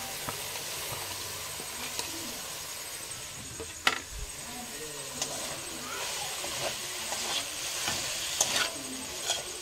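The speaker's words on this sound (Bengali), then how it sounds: "তো এবারে আমি দিয়ে দেবো ঝুরি ঝুরি করে কেটে রাখা পেঁয়াজ।" Chopped onions frying in spiced masala for chicken kosha, a soft steady sizzle and hiss with intermittent scraping stirs and clinks of a spoon against the pan, fairly quiet and close, without talk.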